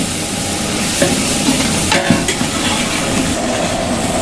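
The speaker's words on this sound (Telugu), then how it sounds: "సరిపడినంత గరం మసాలా యూజ్ చేయండి, బాగా కలపండి, మిక్స్ చేసుకోండి" Garam masala being stirred into biryani masala in a pan while cooking chicken biryani, a steady close scraping and stirring over a continuous sizzle with a few sharper knocks, no talking.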